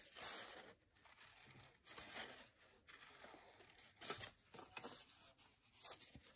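Paper being cut with scissors to make a Halloween silhouette, heard as soft irregular snips and crinkly paper rustles, fairly quiet and close, with no talking.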